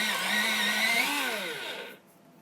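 An electric pencil sharpener grinds with a steady whir, fairly loud and close, with a pitch that dips and wavers before cutting off abruptly near the end.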